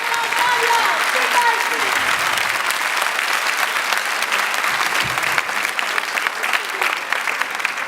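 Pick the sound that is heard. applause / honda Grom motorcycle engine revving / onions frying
applause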